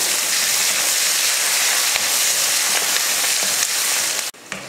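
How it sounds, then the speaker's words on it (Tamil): Shallots and garlic sautéing in hot oil with fenugreek seeds and curry leaves for a bitter gourd kuzhambu, a loud, dense, continuous sizzle close by that cuts off sharply near the end. "சின்ன வெங்காயம் 100 கிராம் அளவுக்கு, அதில் ஒரு 5-6 பூண்டுப்பல். இதை வதக்கிடுவோம்"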